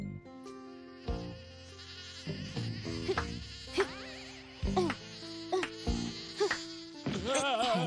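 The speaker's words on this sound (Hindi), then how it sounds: "यहाँ बहुत मच्छर है" Cartoon mosquitoes whine and buzz in a comic effect over a busy animated soundtrack of music and stings, the insect drone rising and falling through the scene with no voices.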